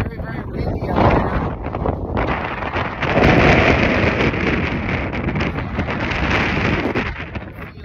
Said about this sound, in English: Very, very windy out there.